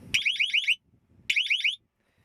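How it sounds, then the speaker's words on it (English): A personal rape alarm tied between two kayaks on a polar bear watch sounds off in two loud, shrill warbling bursts, each about half a second long, with a short gap of silence between them. "rape alarm,"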